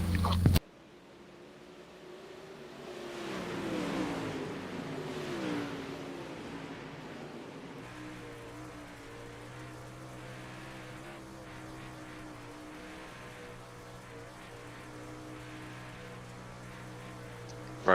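Several race cars bunched together on the Eldora dirt oval in iRacing, engines droning steadily and fairly faint beneath a rushing, rain-like wash, swelling briefly early on before settling into a layered hum.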